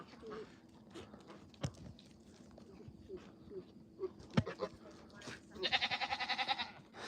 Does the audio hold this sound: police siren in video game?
no